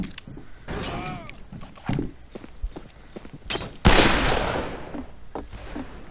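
Gunshots in the video game Fistful of Frags, several sharp cracks spaced irregularly, one loud close blast followed by a long rumbling echo, with clattering hooves and jangling gear between shots.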